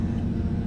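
A steady low, close engine rumble from a 650-horsepower Lamborghini Huracan, even and continuous, with no speech during this short stretch.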